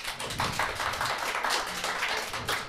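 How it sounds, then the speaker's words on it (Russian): A studio audience bursts into applause at a televised poetry show, a dense patter of many hands clapping at close range, steady and fairly loud for a few seconds. "Аплодисменты."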